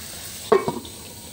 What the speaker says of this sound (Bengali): এবার আমি মশলার সাথে টমেটোগুলো খুব ভালো মতো নাড়াচাড়া করে মিশিয়ে নিচ্ছি